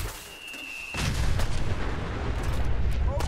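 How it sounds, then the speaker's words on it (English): A nuclear blast in the game Fallout 4 sets off a sudden, loud, deep rumbling roar after a quiet start, then sustains a dense, booming wash of noise to the end. "Now nuke the city."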